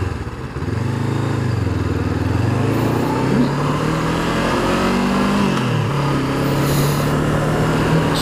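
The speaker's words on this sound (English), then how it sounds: "Exhaust, it's a standard exhaust, it's got a nice little pop and burble" A 2019 Honda CB500F on its standard exhaust runs steadily close by, its engine note rising and dropping as the throttle closes and gears change down, with a soft burble on the overrun.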